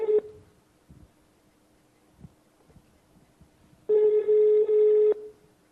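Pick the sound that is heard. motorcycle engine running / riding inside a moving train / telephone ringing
telephone ringing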